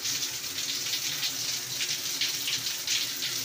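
Water running from a homemade PVC shower in a bathroom, a steady hissing spray pouring continuously with slight fluctuations and no voices.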